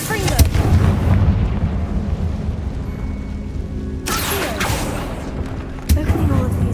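Confringo fire spells blast in Hogwarts Legacy, with two or three sharp, loud bursts over a dense, rumbling game soundscape of continuous low noise.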